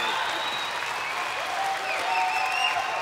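A television talent-show audience bursts into applause with some cheering, thick sustained clapping filling the hall, loud and even throughout.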